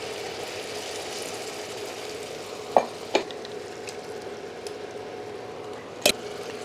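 Ground tomato added to a hot pan while cooking a jackfruit curry, giving a steady soft sizzle with a few sharp clicks of utensil against the pan, no talking.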